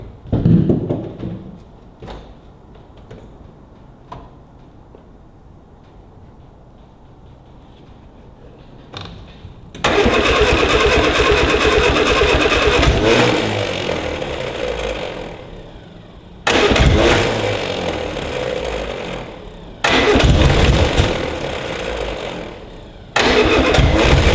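A Mini 1275GT with a sticky choke cranks and then catches three times, each burst of loud, rough engine running cutting off abruptly after a quiet stretch of faint clicks and handling noises.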